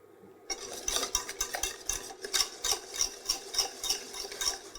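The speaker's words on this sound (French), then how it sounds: "Et je le mélange toujours pour pas justement que ça tranche." Butter caramel stirred in a pan, a utensil scraping and swirling in steady rhythmic strokes, close and moderately loud with light sizzling beneath.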